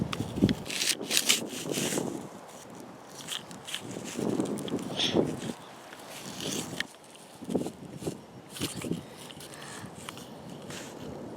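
Toy excavator scooping and scraping through sand, a series of gritty rubbing and shuffling scrapes in irregular bursts, close by and moderately loud, with no talking.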